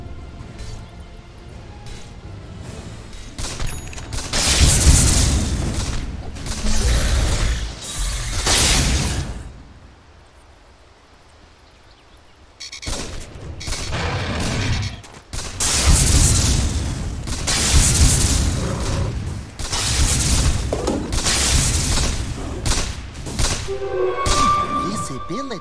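Dota 2 tower under attack, heavy booming explosions and thuds in loud bursts with a brief quieter gap midway, dense game combat sounds resuming afterward, and a voice speaking over parts of it.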